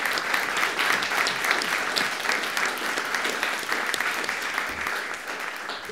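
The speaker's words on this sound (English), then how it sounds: "So let's give them a round of applause." Steady applause from an audience at a college senate meeting, dense clapping holding at an even level for several seconds without pause.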